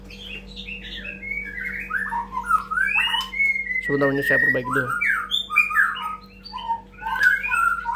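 A hot-tempered songbird calls aggressively nearby with rapid, varied whistles, squawks and chirps, continuing throughout while someone speaks briefly in the middle.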